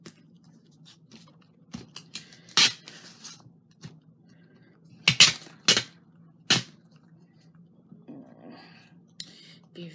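Duct tape being handled and wrapped around a shadow box in a Thanksgiving craft project: sharp, scattered crackles and rips near the mic, with a few louder bursts over a low steady hum and quiet rustling between them.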